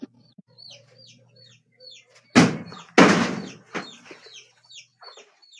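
Chickens and small chicks cluck and peep softly throughout, broken by two loud bangs like a slamming door midway, with no talk.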